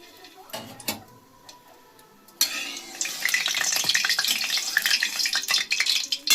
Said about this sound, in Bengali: আমি দিয়ে দেবো এই যে ঘি। এটা অনেকটা ঘি লাগে, কারণ এই গাজরটা পুরো ভাজা হবে তো। ফোড়ন দিচ্ছি, গোটা এলাচ,